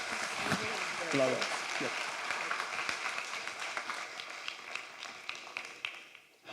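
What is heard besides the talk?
audience applause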